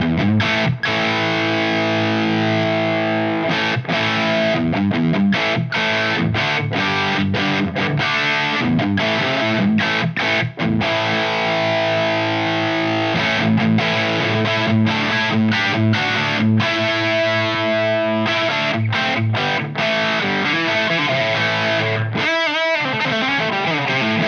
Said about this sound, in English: we're going from LED clipping in the AT mode down to germanium clipping in the RK mode